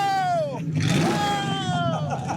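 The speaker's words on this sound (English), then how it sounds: "What's the big idea of revving your engine while we're trying to do an interview over here?" A car engine revs at a car show, a throaty rising and falling roar that climbs and drops in pitch across a couple of seconds, heard close with people talking over it.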